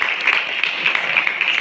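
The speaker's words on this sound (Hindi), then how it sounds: "मैडम के लिए ताली" Steady applause from an audience at a speech event, a continuous wash of many hands clapping at moderate loudness, with no talk over it.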